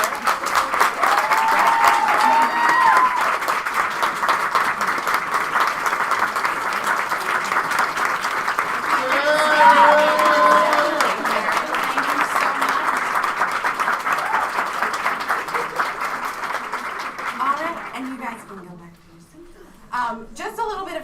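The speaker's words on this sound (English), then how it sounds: "If you guys could all stand so we can give you the round of applause that you deserve." A large audience at an advocacy day event gives a long, loud round of applause for the first spouse. The clapping holds steady with voices mixed in, then fades near the end.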